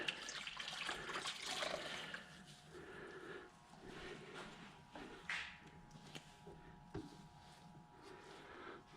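Water running and trickling off wet rags lifted from hot water and draped over a motorcycle windshield, a steady close splashing with brief louder drips and spatters.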